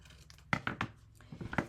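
Scissors or a blade cutting through a children's cardboard board book, a few crisp snipping and crunching strokes close up, spaced apart with short pauses, no talking.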